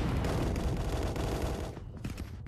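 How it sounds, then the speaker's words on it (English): In the Contractors VR shooter, a grenade bounces off a ceiling and blows up, a loud, rumbling burst of blast noise and crackling gunfire-like bangs that fades over the last second. "My grenade hit the ceiling."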